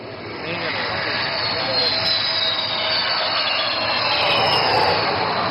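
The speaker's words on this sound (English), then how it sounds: "this twin-engine fighter demands nothing but absolute precision while landing on this highway" A twin-engine Sukhoi fighter weighing over 38 tons lands on a highway at an air show, its loud jet roar building steadily and then holding at a sustained rushing whine.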